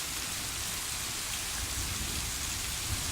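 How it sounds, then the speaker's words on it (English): Heavy rain pounds down during a thunderstorm at night in a neighbourhood, a dense, loud, unbroken roar with a low rumble underneath and no talking. "The rain is coming down really, really hard"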